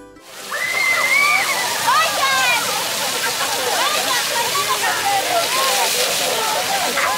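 Water spurting and splashing from jets in a water maze fountain in Cochabamba, a steady rushing splatter close by, with excited voices and shrieks of people getting wet mixed in.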